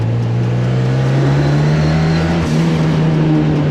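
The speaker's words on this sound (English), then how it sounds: "Oh, that turbo noise" Engine and turbo of a 340 bhp Cosworth-powered rear-wheel-drive Ford Fiesta Mk3, a loud close droning note that climbs steadily under acceleration, with a faint whooshing hiss above it.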